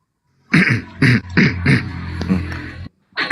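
A person coughs four times in quick succession, loud and close, then gives a longer rasping cough before a short silence and a further burst.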